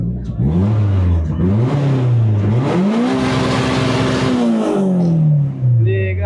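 A Mercedes C63 V8 engine revs hard and close, its deep note climbing and falling through several sustained rises before settling back to idle.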